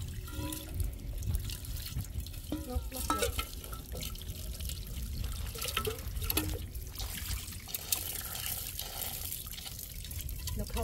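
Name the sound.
rinsing item under running tap water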